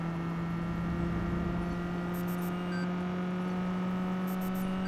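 Car speeding through traffic in the Watch Dogs 2 video game, a steady engine drone with strong humming tones, joined midway by brief high electronic chirps that repeat twice.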